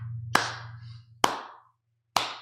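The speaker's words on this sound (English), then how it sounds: "Self-aggrandizing clapping." Three sharp, deliberate hand claps, spaced nearly a second apart, each decaying in a reverberant space over a faint low hum, with no voices.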